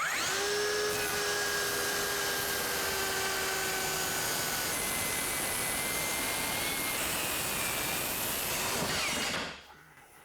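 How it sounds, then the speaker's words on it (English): Power tool cutting through clamped material during a DIY kitchen renovation, a loud, steady high-pitched whine running for about nine seconds with shifting tone, then cutting off abruptly. "Now we will clamp these two down and cut away."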